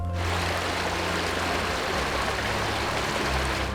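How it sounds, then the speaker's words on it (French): Steady rushing water of a spring-fed stream flowing over mossy rocks, with a broad, continuous hiss and low gurgle, constant in level throughout, no voices. "En voyant l'eau ricocher sur la mousse, couler entre les amoncellements rocheux"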